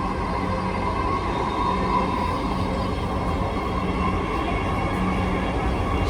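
A Dhaka metro rail train runs at speed toward Agargaon, its steady loud rumble and rail roar filling the carriage interior without letup, with a faint hum running underneath.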